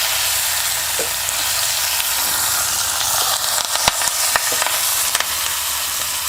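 Eggplant pieces sizzling loudly in a pan for a brinjal vegetable dish, a dense continuous fry with scraping and clattering as the pieces are flipped and stirred, close up and with no talk.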